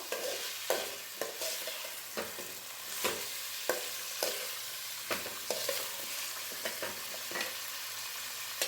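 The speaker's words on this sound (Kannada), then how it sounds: "ಈ ರೀತಿ ಎಣ್ಣೆನಲ್ಲಿ ಫ್ರೈ ಮಾಡಿ ಸಾಕು" Masala fries in oil in a pan for a drumstick and potato curry, a soft steady sizzle broken by repeated scraping strokes of a spoon stirring at an irregular rhythm, close and fairly quiet.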